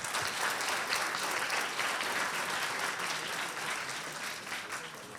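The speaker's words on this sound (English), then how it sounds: "let's give another round of applause to all our speakers" An audience at a launch ceremony for a Hong Kong digital currency pilot programme applauds its speakers, a dense, steady clapping from a large crowd that carries on for several seconds before easing slightly.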